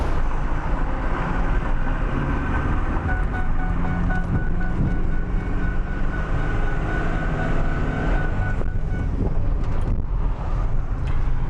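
A 2004 Ford F350 fitted with a 5.9 Cummins diesel drives down the road, its steady low rumble loud and close, with wind and road noise around it. A gear change comes through firmly partway along.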